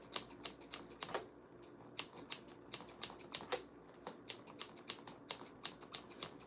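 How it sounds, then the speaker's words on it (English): Steel scissors point-cutting the hair of an old wig, giving a rapid run of crisp, close snips in an irregular rhythm, each a short bright click, with no talking. "So you use the end of the scissors and you just go around and cut it."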